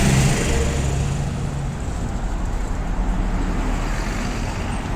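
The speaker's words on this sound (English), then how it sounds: "We've got a petrol bus here." Petrol bus passing in city traffic, a steady, close engine rumble and roadway noise that is loudest at the start and then settles into a continuous traffic wash, with no talk.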